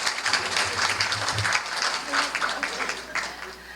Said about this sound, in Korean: 네, 큰 박수로 맞이해 주시기 바랍니다.